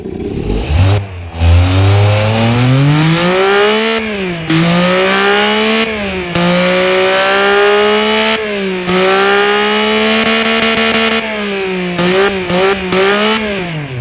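A Honda E07A engine revs in the Automation game, one loud continuous engine note rising and falling in pitch through repeated revs, with brief cuts between bursts and a final series of quick blips, no talk.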